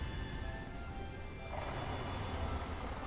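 A horse galloping in Zelda: Breath of the Wild, a dense steady hoof rumble blended with continuous game ambience that sounds almost like rain, moderately loud throughout, with no talk.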